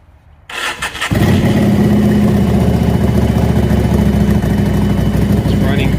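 A motorcycle with 18,317 miles starts up and settles into a steady, loud, close idle with an even rumbling beat that runs on unbroken after the brief cranking.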